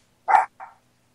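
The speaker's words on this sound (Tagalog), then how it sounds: "Si Ari yung kumakahol eh" A dog barks twice in quick succession, close and fairly loud: a full bark followed by a shorter, softer one, with silence around them and no talking.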